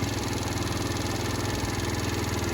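A scooter engine runs steadily at close range, a continuous throbbing mechanical drone with even pulsing as the throttle is worked, heard alone without talk.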